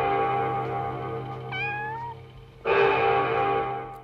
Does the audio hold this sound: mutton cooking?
no